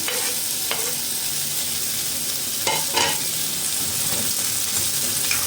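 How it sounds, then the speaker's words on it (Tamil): Shallots, brinjal, tomato and curry leaves sautéing in a pan for a brinjal masiyal, a steady close sizzle with a few sharper scraping stirs of a spoon partway through. "போட்டுட்டு நல்லா வதக்கி விட்டுடலாம்"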